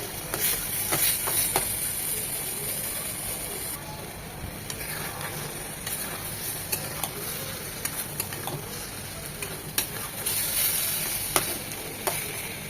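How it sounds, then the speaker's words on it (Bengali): Taro greens and hilsa fish heads crackle in oil in a pan, an even hissing sizzle over which scattered light clicks and scrapes of stirring recur; no voices. "একটু পর পরে এইভাবে নেড়ে ভাজা ভাজা করে নিতে হবে"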